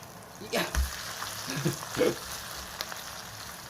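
Minari pancake with freshwater snail broth in the batter frying in a pan, a steady soft sizzle with a few louder bursts as it is moved and flipped, no talk.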